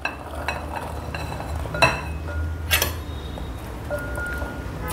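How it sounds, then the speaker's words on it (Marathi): Pressure-cooked chickpeas for chana chaat are scooped from a cooker into a bowl, giving a few close metallic clinks and scrapes of a spoon against cookware over a quiet kitchen background. "आता मी हे या बोलमध्ये काढून घेते."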